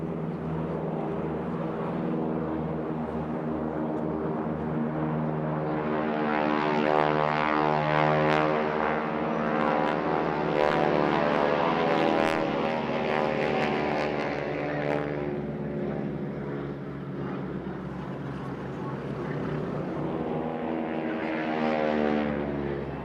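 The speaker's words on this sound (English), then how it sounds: "The Stearman is powered by a 450 horsepower Pratt & Whitney radial" A Stearman biplane with a 450 horsepower Pratt & Whitney radial engine flies at a seaside airshow, its throaty propeller drone steady and loud, swelling and easing slightly as it passes, with no voices.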